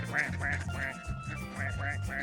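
Ducks quack repeatedly near a bridge at Dockyard in Bermuda, a steady run of close, fairly loud calls in quick bursts with a little talk mixed in.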